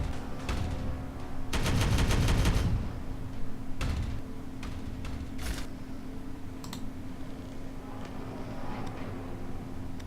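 Bursts of heavy gunfire in the Warhammer 40,000 game Regicide, with a loud sustained volley early on followed by scattered sharp shots and clatter against a steady background hum.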